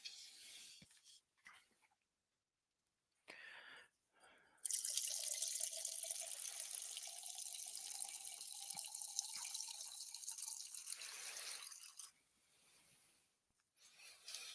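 Liquid pours steadily into a glass for about seven seconds, a close, continuous hissing splash, with quieter handling sounds before and after.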